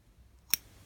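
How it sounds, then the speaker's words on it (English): Scissors make one quick, crisp snip while cutting thread tails on a sewn pencil case, close and alone in near silence. "cut the tails"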